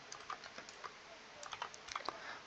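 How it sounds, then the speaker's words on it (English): Irregular clicks of keys being typed on a computer keyboard, close and fairly quiet, coming in short bursts with pauses between strokes. "I don't like this keyboard I'm using."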